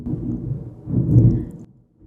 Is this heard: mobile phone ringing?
no